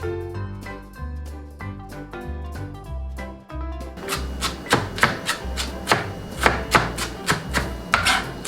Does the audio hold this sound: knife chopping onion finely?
yes